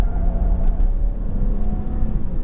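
A Toyota Camry TRD at full throttle in sport mode, the engine drone steady and close with a faint whir, a slight dip suggesting a gear change.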